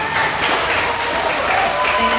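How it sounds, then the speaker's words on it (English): Audience applause at a congressional district town hall in a school building, loud sustained clapping from a sizable crowd that holds steady throughout, with no speech over it. "We're going to ask you to keep your applause to the very end, which is nearing."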